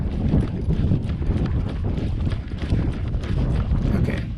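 Horse hooves clip-clopping steadily on an endurance ride at Antelope Island, a dense continuous rhythm of footfalls under outdoor noise, close and fairly loud throughout.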